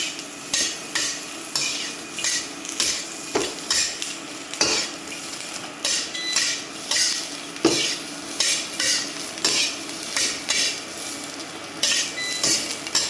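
Mixed peppers stir-fried in a wok on an induction burner, a close, steady sizzle broken by rhythmic scraping and clanking of a utensil against the metal pan, with no talking.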